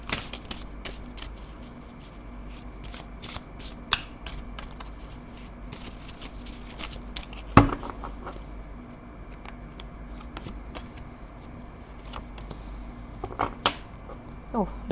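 A deck of cards is shuffled during a candle wax reading, giving scattered crisp clicks and riffles spread through a quiet room, with a voice occasionally heard in the background.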